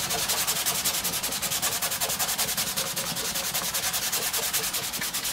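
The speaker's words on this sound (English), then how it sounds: "Get your sandpaper. Keep working on it until it's gone." Sandpaper scrubbing at a burnt mark on a wooden guitar body during the build, a steady, fast back-and-forth rasp that carries on without a break, close up and with no talking.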